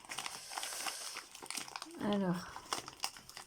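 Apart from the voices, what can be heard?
opening a wrapped package, crinkling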